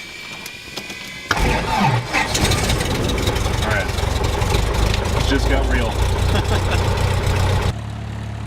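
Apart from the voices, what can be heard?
small airplane propeller engine starting and idling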